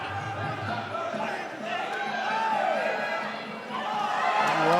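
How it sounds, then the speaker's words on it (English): A crowd at a Muay Thai fight roars and cheers in support of a home fighter, a dense swelling wash of voices rising and falling, with commentary audible in the mix. "Crowd going absolutely bananas now, trying to support their home girl."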